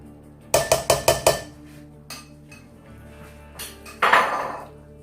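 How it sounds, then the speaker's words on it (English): A utensil clinks and scrapes against a bowl in a quick burst of five taps, then a few more scattered knocks and scrapes as sour cream is stirred into a hot mixture. "Get that sour cream broke up and stirred in."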